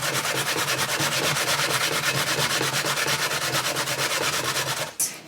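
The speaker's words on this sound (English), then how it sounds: "to use a hand grater so that we can get an arm workout in while we're baking" Carrots are grated by hand on a metal grater with a rapid, even rasping rhythm, close and loud, in about twenty quick strokes before a short scrape as it stops.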